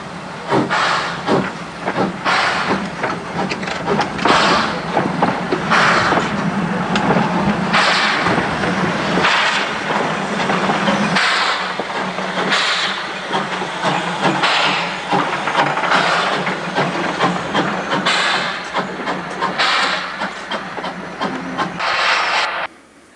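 A train rolls steadily through a switch onto the main line, with continuous rumble, clattering wheels and hissing bursts across more than twenty seconds, moderately loud and near.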